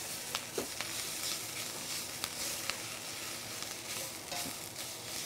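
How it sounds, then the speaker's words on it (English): Tomato paste being stirred into a pan of sautéed vegetables for a bacon-wrapped meatloaf, with a steady soft sizzle and occasional scraping strokes of a spoon, fairly quiet and with no talking. "a heaping tablespoon of the tomato paste in. And you're gonna mix that into your vegetable mixture"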